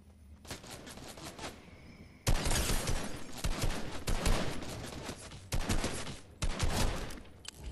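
Loud, dense bursts of automatic gunfire and rapid shots in a shooter video game, coming in repeated volleys with brief pauses between them and no talking.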